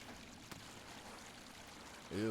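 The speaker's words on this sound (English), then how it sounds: "Oh, that's just water." Soft, steady trickle of flowing water in Hollow Knight, faint and continuous, ending with a louder tonal game sound cutting in near the close.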